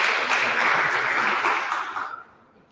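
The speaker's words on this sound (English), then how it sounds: "We will now give a round of applause to Linas" An audience at a hackathon awards ceremony claps in a brief, dense burst of applause that fades out quickly after about two seconds.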